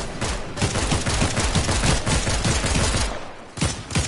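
Dense, rapid gunfire from an AI opponent in Fortnite Chapter 4 Season 2 rattles continuously at close range, with sharp repeated shots and only a brief lull near the end.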